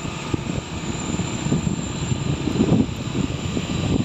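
A four-wheeled truck loaded with sand passes on a foggy, cold road, its engine making a steady, fairly loud low rumble with a broad roar that swells slightly midway.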